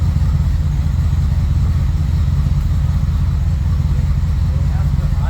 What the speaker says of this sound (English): They have to idle for at least a couple of minutes to warm up so the choke comes off